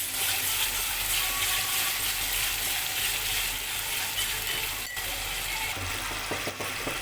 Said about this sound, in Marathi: दोन चमचे दही टाकून घेऊ आता आणि तेल सुटेपर्यंत परतवून घेऊ.